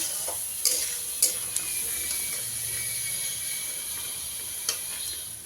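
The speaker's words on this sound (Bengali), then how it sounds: "এবার দইয়ের মিশ্রণটা দিয়ে দেব। ভালো করে কষিয়ে নিতে হবে।" A yogurt mixture for Kashmiri aloo dum with fried potatoes, stir-fried in a pan; a soft steady sizzle with a few sharp spatula knocks against the pan, no voices.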